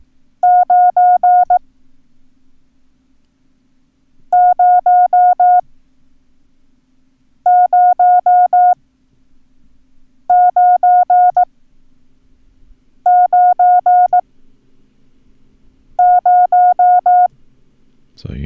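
Six bursts of rapid electronic Morse code tone pulses for the numbers nine and zero, each group about a second long, separated by pauses over a faint low hum, loud and clear.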